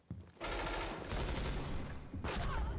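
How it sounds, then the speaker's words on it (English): Sustained gunfire from Counter-Strike during a professional South America League match, a long dense burst after a brief quiet start, then a second burst near the end, fairly faint in the mix. "Just firing away at targets."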